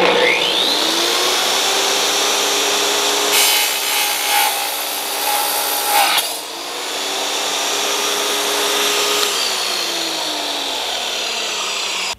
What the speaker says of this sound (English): the first tile I'm gonna cut is a polished porcelain, a marble look, and we're gonna see how this cuts